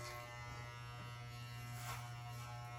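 Electric hair clippers with a number 4 guard cutting a boy's hair, a steady close mechanical buzz with a strong hum running unbroken throughout.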